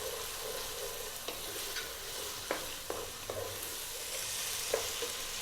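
Vegetables fry in a pan over medium-high heat with salt and black pepper, giving a steady soft sizzle broken by several sharp scrapes and clacks of stirring, close by and moderately quiet.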